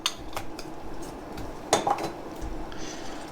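A wooden spoon stirs tomato sauce in a pot, scraping and knocking against the metal with scattered soft clinks, close up and with no talk.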